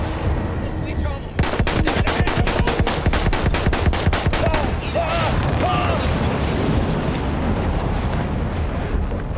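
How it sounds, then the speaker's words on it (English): A machine gun rattles in a fast, even burst on the Gallipoli cliffs in the World War I game Battlefield 1. Battle noise follows, and someone talks over it. "We will take a cliff face defended by machine guns from thousands of angry Turks"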